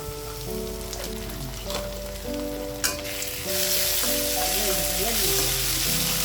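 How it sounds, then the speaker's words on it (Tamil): Ginger garlic paste sautéing in oil for a vegetable stir-fry, a close, continuous crackling sizzle that swells louder in the second half, with a sharp stirring clatter near the middle and no voices. "இஞ்சி பூண்டு சேர்த்ததுக்கப்புறம் ஒரு நிமிஷம் அந்த இஞ்சி பூண்டு எண்ணெயில் வதங்கட்டும்."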